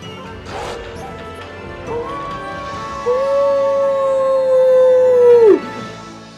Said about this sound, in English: how about we cut victory howl?